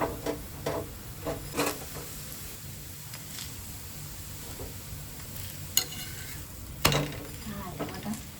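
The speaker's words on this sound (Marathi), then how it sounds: "आपल्याला हा चांगला खरपूस भाजून घ्यायचा आहे." A thalipeeth flatbread roasting on a pan gives a faint, low sizzle under the room tone, broken by light clinks and taps of utensils, with no voices.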